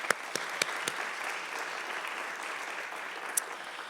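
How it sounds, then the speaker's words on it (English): An audience at a college State of the College event claps steadily for speakers, a moderate wash of applause with a few sharp, close individual claps standing out near the start and once more later. "Please join me in a round of applause for Yannis,"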